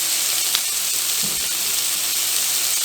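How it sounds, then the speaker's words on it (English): Butter melting with leftovers warming in a skillet gives a steady, soft sizzle and faint hiss that runs evenly throughout, near and fairly quiet, with no voices. "we have our leftovers heating up. And we have our butter melting."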